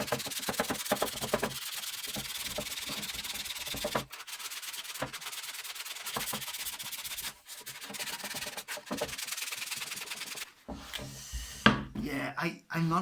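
Hand sanding on the horns of a wooden electric guitar body, steady close rubbing strokes in bursts with short pauses, loud and near, with brief scraping toward the end.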